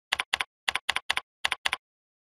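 Fingers type on a computer keyboard in short bursts of crisp, close keystrokes, with brief pauses between the groups and silence at the end.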